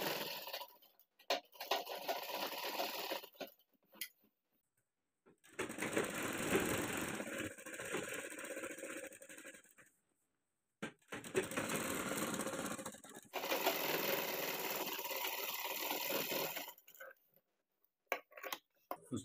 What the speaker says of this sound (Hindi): इसको यहाँ पे इस तरह से बराबर बैठा देंगे और इसके राउंड पे सिलाई लगा लेंगे।